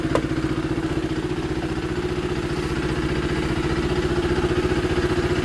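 A motorcycle engine idles steadily nearby, a rapid even chugging throb that holds at constant loudness throughout, with no voices.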